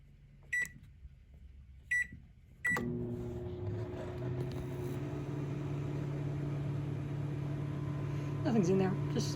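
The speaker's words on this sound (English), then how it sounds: "the microwave is on" An empty microwave oven powered from a DIY power station inverter: three sharp keypad beeps, then a steady mid-pitched electrical hum and fan whir as it runs, ending with a brief tonal chirp, close and alone.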